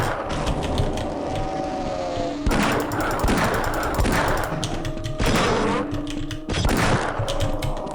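Gunshots in the video game Half-Life: Decay: a string of sharp, loud reports with several heavy impacts, over a busy background of game noise.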